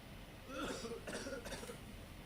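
A video game character coughs: a few short, faint rough coughs in quick succession, quiet and close, set against a low background hum.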